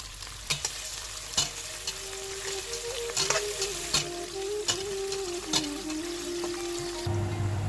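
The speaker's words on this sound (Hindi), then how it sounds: "ग्रेवी बनाने के लिए मैंने तेल डाला है इसमें, और उसके बाद मैंने इसमें हरी मिर्च और प्याज डाल लिया है ऑयल गर्म करने के बाद।" Green chillies and onion fry in hot oil as the base of a chicken tikka biryani gravy, giving a steady, soft sizzle. Sharp clicks and clatters from stirring recur throughout.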